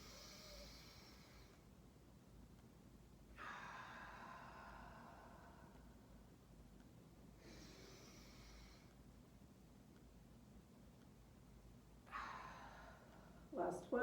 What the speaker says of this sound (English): inhale to open up, fill up that belly, and exhale, blow it out.